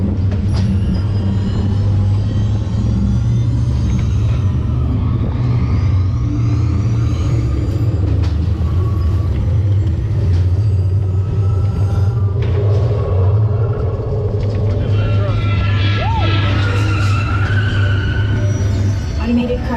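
Epcot Test Track ride vehicle accelerating and skidding through a responsiveness test, a loud continuous low rumble of the car on its track with rising whines, beneath an automated announcer voice and crowd chatter.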